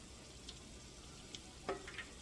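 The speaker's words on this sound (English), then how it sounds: "we're just like in the process of frying this one now" Pork adobo meat fries in a pan with a faint, steady sizzle broken by a few soft pops and a brief clink near the end, quiet and close with no talking.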